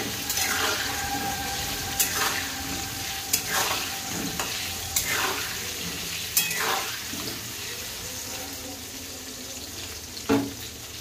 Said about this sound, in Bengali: আলুগুলোকে আমি লাল লাল করে সুন্দর করে ভেজে নেব